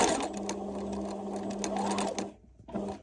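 A sewing machine stitches a bar tack on a cotton hand towel, a steady close whirring hum for about two seconds, a short stop, then a brief second burst of stitching.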